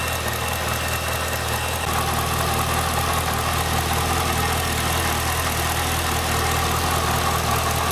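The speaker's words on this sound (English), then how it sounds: "So the car's been idling about 4 minutes" A Cadillac CTS-V fitted with a Halltech Stinger cold air intake idles steadily, its engine giving a constant, loud low rumble with even vibration for the whole stretch and no voices.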